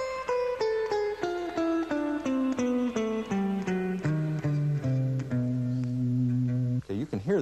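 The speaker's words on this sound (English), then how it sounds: "It's a little melody that descends down the guitar that, at this point, is just eighth notes." Guitar plays a descending melody of even eighth notes over a jazz blues turnaround, each note plucked cleanly in a steady stepwise fall before settling on longer sustained tones, close and alone.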